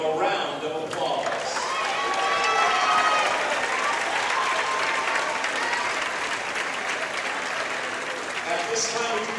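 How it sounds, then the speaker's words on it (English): A standing crowd in a gymnasium at a high school basketball game, Jonesboro against the Tucker Tigers, gives a loud, sustained round of applause mixed with cheering and crowd noise, continuing evenly throughout. "Everybody, please stand and give him a round of applause"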